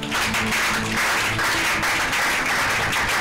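A church congregation claps and applauds in praise of the Lord during a Bible study, a dense, steady wash of many hands that stays loud throughout, with no talk over it.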